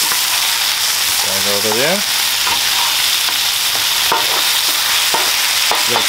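Chopped meat for a New York chopped cheese sizzles steadily on a hot griddle, a loud continuous crackle with scraping spatula clicks, while a voice speaks briefly in the background.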